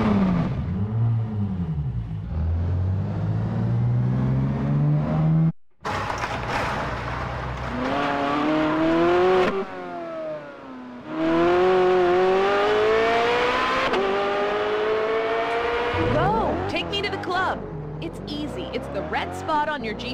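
Car engine in a racing video game starting up and driving off, revving with rising and falling pitch sweeps, loud and close, with game music or effects mixed in.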